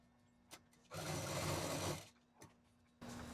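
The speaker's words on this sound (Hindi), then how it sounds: "थोड़ी थोड़ी दूर पर बहुत आराम से मशीन चलाएंगे।" A home sewing machine stitches quilted fabric pinned onto a rice bag, running in one steady motorized burst of about a second, with brief clicks and a shorter run starting near the end.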